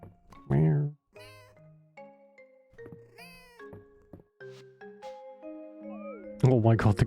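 A cat meowing repeatedly in the farming life-sim video game Fields of Mistria, a string of short tonal mews in varied pitches, clear and close, with a brief loud burst at the start and a noisier one near the end.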